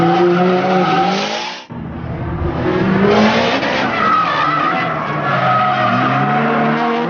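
Several drift cars slide around a track with loud, continuous tire screech and revving engines, a brief break near two seconds before the squeal and engine roar resume and hold steady.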